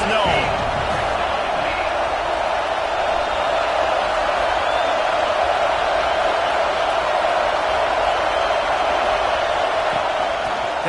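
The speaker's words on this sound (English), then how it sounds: "This crowd ready to make its presence known." Stadium crowd roars steadily through a USC vs Colorado college football game, a loud, dense wash of cheering that holds constant for the whole stretch.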